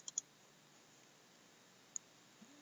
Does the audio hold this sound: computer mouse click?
yes